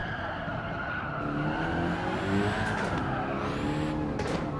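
Ford Focus rally car in Gran Turismo 7 drives over gravel with a droning, revving engine and scrabbling, skidding tires, loud and close, a gear change shifting the engine note midway.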